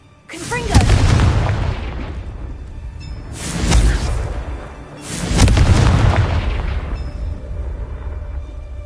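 Confringo blasting spells explode in Hogwarts Legacy, three heavy booming bursts roughly two seconds apart, each with a rumbling tail, loud and close.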